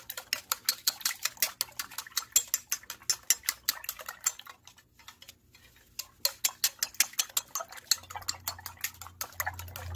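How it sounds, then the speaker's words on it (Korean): Four eggs beaten in a bowl, a rapid, steady run of close clicking utensil strikes against the bowl, pausing briefly midway before resuming, alone without talk. "계란 4개 이렇게 풀어서"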